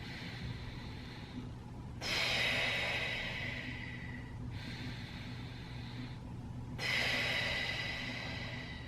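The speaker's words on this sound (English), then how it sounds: "They're gonna inhale through their nose and really feel their belly fill up. And then exhale through their lips, pursed lips, so slightly closed." Slow, deep breathing alternates between quieter inhales through the nose and louder, airy exhales through pursed lips, two full cycles heard close up with no talking.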